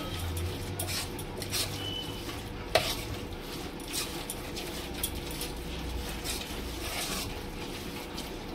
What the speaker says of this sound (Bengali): সমস্ত সবজিগুলোকে এইভাবে মাখিয়ে নিলাম ব্যাটারটার সাথে